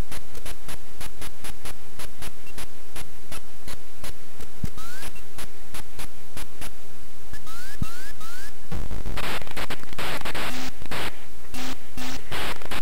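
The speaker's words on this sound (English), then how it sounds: "just picked the laser weapon, it's got that sound distortion and corruption" Turrican on the Amstrad CPC fires its laser weapon with distorted, corrupted audio, a harsh buzzy static of rapid repeated clicks and glitchy tones that bursts into a louder noisy wash near the end.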